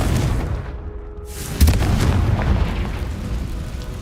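A Confringo spell in the Hogwarts Legacy game erupts in a single loud, deep explosion partway through, following a quieter stretch and trailing into a sustained low rumble.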